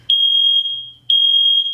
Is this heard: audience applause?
no